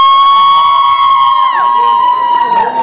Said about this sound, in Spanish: Griten más fuerte, que no los escucho.